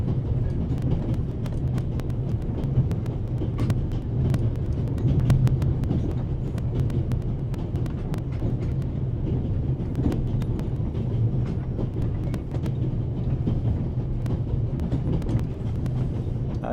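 A train in The Raven Remastered rumbles steadily and without a break, with faint clicks from the rails over a low drone and no voices.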